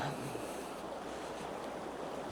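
A small stream at a trout fishing spot flows in a steady, close rushing wash that fills the whole stretch without pause, with no voices.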